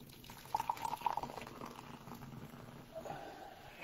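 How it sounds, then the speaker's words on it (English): A drink is poured into a glass, giving a soft, close gurgling splash in a short burst that fades to faint trickles, quiet overall. "Let's pour it in the glass."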